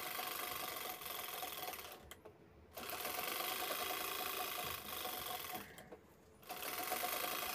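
Sewing machine stitching fabric for a handbag, a steady close whirring run broken by two short pauses before it starts up again, with no talk.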